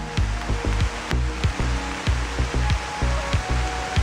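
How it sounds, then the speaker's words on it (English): Heavy rain pouring down under a tree canopy during a storm, a dense steady wash of noise with low thumping knocks recurring throughout, loud and continuous, no voices. "It's pouring down rain."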